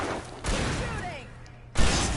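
Gunfire in the video game Alan Wake: a couple of heavy shots burst out in quick succession, loud and close, with a clamor of game noise between them.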